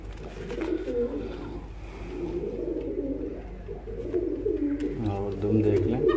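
A low-flying pigeon cooing close by, soft repeated throaty coos over a low background hum.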